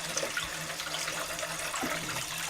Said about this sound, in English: You want to fill this guy up with water.